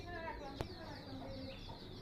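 Village chickens cluck faintly in a home yard near the poultry shed, short quiet clucks over low outdoor background noise with a single sharp knock partway through.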